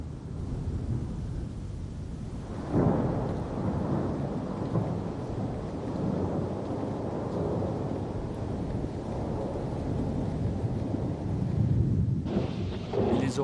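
A thunderstorm rumbles steadily with a deep, sustained roll of thunder, a louder crack-like swell near the start and another burst toward the end, heavy and continuous with no voices.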